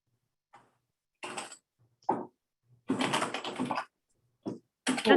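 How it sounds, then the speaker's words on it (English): Someone types a note on a computer keyboard during a virtual task force meeting, with several bursts of close key clatter separated by short pauses and no talking. "I'm in the middle of typing a note."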